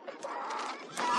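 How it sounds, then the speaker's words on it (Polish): Chickens clucking in a short burst, a close, fairly loud run of bright clucks lasting about a second, with no talking. "To kurczaki?"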